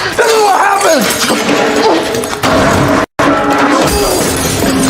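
A store is smashed up, with glass shattering and crashing debris in dense, loud bursts over several seconds. Voices, groans and a cry are mixed in.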